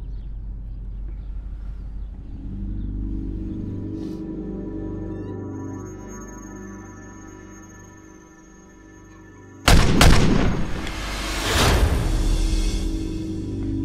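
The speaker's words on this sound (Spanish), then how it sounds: "¿Qué fue eso? Un disparo." A single loud gunshot in a Mexican feature film bursts out abruptly after a stretch of quiet droning ambience, followed by a rumbling, echoing tail and a second softer crack.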